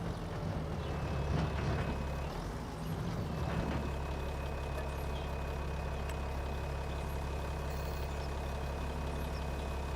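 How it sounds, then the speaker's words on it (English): A farm tractor engine approaches during a wheat harvest, giving a steady low diesel drone with a brief swell of mechanical clatter early on, continuous and fairly close with no talking. "Hurry up, tractor's coming."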